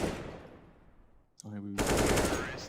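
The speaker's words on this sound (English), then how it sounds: "So that's a clean headshot from Shox" A sharp gunshot from Counter-Strike: Global Offensive lands a headshot on the Dust2 map during an ESL One Cologne 2020 match, one loud crack over a decaying game-sound bed followed by a burst of dense noise.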